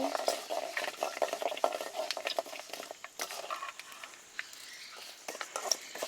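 Two tablespoons of raw rice fry in oil in a pan for a spinach stir-fry, a close, quiet crackle and patter with occasional stirring scrapes that thins out over a few seconds.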